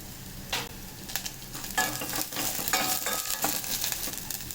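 Ginger, green chili, garlic and onion sauté in a hot pan for ragi soup, a continuous loud sizzle broken by repeated close scraping stirs of a spoon.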